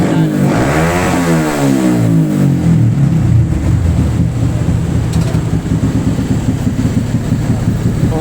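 A Spark135 carbureted motorcycle engine fitted with a racing ignition box, revved hard and loud up close, pitch sweeping up and then holding at a high, steady roar.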